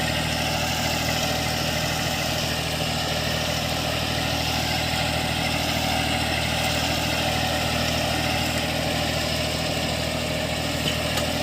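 A steady, rumbling farm tractor engine idles continuously at close range, with a constant mid-pitched vibration and no change in speed.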